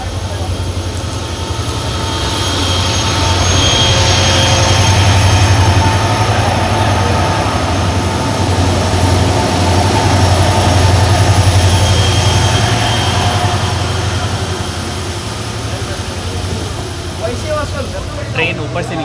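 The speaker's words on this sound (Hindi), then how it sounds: "यहाँ पे हमारी क्रॉसिंग हो रही है फ्रेट ट्रेन के साथ बाउंड टू कैसल रॉक" A freight train bound for Castle Rock rumbles past at a crossing on a ghat rail line in heavy rain, a loud, sustained roar that swells and slowly fades, with a voice talking over it.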